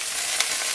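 General Tao chicken pieces being stir-fried in a little oil in a pan, giving a brief, steady hiss of sizzling with no voices.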